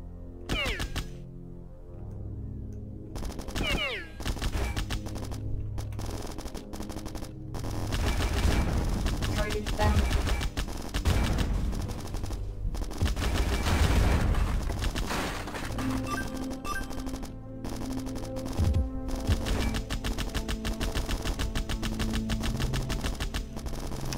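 Gunfire in a video game sounds as a dense, continuous barrage of rapid shots and bursts that stays loud throughout.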